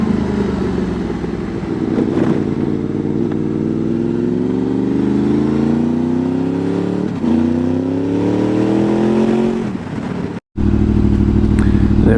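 A Honda VFR 800 motorcycle engine drones steadily while riding the Horseshoe Pass area, its pitch climbing through the gears with brief dips at shifts, loud and close with wind roar, and cut by a short gap near the end.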